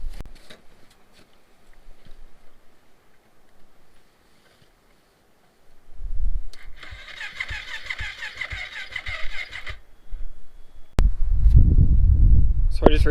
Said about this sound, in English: So now we gotta try to get this thing to start.